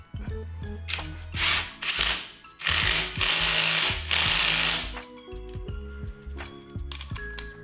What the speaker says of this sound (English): let's put the torque wrench back on, and 90 foot-pounds roughly.